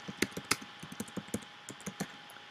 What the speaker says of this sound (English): Okay, I type it in.